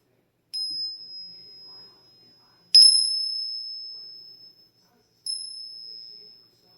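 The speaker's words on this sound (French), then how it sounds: "Je vais vous faire sonner 3 fois la petite cloche pour vous apporter de très bonnes énergies" A small bell struck three times during a full-moon ritual, each bright, clear ring sounding close and alone, then fading slowly into silence before the next.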